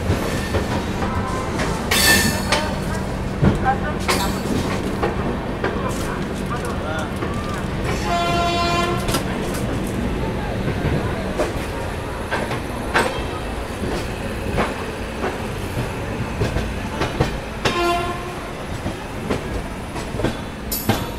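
The Rajdhani Express passenger train pulls away from Delhi's Hazrat Nizamuddin station, its horn sounding a few times over steady rumbling and clicking wheels, with voices and station chatter mixed in.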